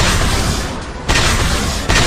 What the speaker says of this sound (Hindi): धमाका है।